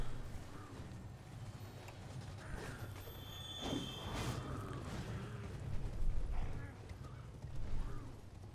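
Hooves clip-clopping from a rider on horseback in the Limgrave area of the Elden Ring video game, rhythmic and mid-distance, mixed with game effects and a voice talking.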